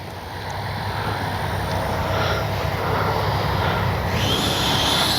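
FMS Avanti S 90mm electric ducted-fan RC jet model flying overhead, a steady loud rushing whine that holds for several seconds with a rising hiss near the end, no voices.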